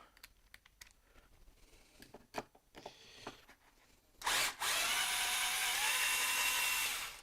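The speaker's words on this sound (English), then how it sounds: "IKEA screwdriver. Primitive, simple, but does the job and it's not loud." A simple, quiet battery-powered IKEA electric screwdriver backing screws out of a battery-operated DMX light, with scattered clicks and handling knocks first and then a steady whirring motor run of about three seconds, close by.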